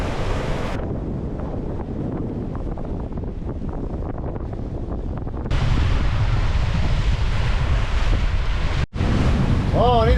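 Strong wind roars across the microphone aboard a sailboat at sea in a squall off Quebec's North Shore, with waves washing and surging around the hull; the gusting grows louder midway and holds steady, with no talking.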